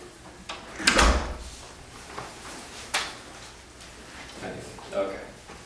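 A door is pushed shut and locked, with a dull thump followed by a couple of lighter clicks and knocks spaced over a few seconds, nearby and moderately loud against a quiet room with faint voices.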